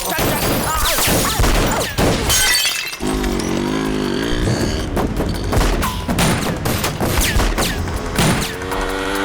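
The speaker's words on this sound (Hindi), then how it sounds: "ये गन फाइट है, स्टंट शो की तरह।" Gunfire in an action crime thriller gun fight, rapid bursts of shots mixed with shattering glass and crashes, loud and dense, with voices and a musical score underneath.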